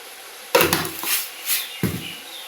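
Potatoes and prawns stir-fried in a pan, with two sharp clattering bursts of a spatula against the metal and a few softer scrapes in between, close and fairly loud and free of talk.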